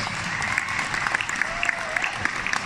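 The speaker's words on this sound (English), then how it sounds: "Now that deserves a round of applause for IBM." Audience applause at the IBM Think 2019 conference, a steady wash of many hands clapping at moderate volume with a faint tonal hum running underneath.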